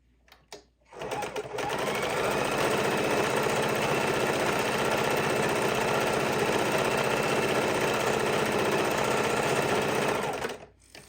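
A sewing machine runs steadily for about nine seconds, stitching across a fidget quilt in one continuous, close, even whir, with brief quiet before and after.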